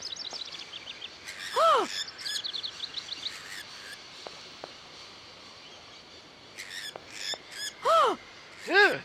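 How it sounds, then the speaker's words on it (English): Birds in the video game Syberia give scattered chirps and rising whistled calls, some close and loud, others faint, over a quiet ambient background. No talking. "Birds."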